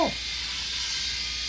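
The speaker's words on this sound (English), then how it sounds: "you're used to using the electric shaver up there, just not that one" An electric shaver buzzes steadily and fairly quietly with a bright, even hum after a brief thump at the start.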